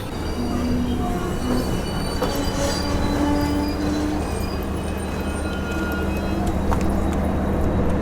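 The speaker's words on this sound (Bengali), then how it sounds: "হঠাৎ হঠাৎ ছোট ছোট নদীর উপর দিয়ে ট্রেন ছুটে যায়" The Kanchankanya Express runs over a small river bridge, a loud continuous rumble of wheels on rails with a low drone and occasional high squeals, heard from on board with no talk.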